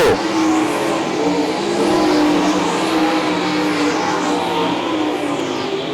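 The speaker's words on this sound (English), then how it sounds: "Kevin Martins will be the next one to go a lap at a disadvantage as they work back to turns 1 and 2" Sprint cars racing around Tri-City Motor Speedway produce a loud, continuous engine roar with shifting pitch as the pack circles the track, steady and dense throughout.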